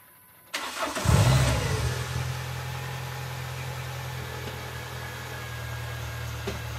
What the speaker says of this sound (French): Elle démarre, je sais pas si elle roule.